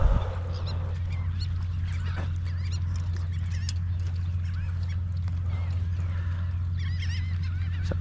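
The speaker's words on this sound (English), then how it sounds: "So close I can get to those birds." Geese or ducks honk and call repeatedly near a private dock on the Gulf, overlapping calls close by over a steady low hum, with no talk.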